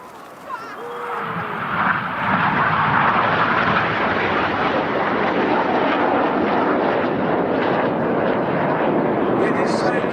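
Red Arrows jets performing the Gippo break at the East Fortune Airshow, a broad, loud roar that swells after a couple of seconds and holds steady as the aircraft pass, with a commentator talking over it at the start.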